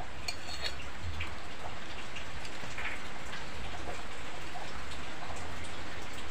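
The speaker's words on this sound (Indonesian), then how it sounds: "nah, hujannya tambah deras kok hujan." Steady heavy rain pours down, a dense continuous hiss of drops on surfaces lasting throughout with no voices, the downpour growing heavier.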